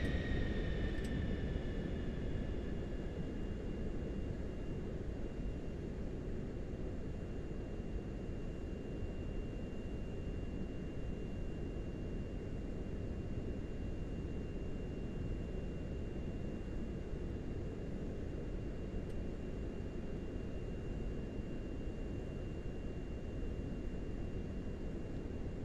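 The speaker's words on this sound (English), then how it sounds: "It's also a lot less loud, I feel like, than the other plane, even though it's a jet engine." Steady, muted roar of a PC-24 jet's engines in Microsoft Flight Simulator 2024, a smooth continuous hiss and low rumble with a faint whine, fairly quiet and unchanging for the whole stretch.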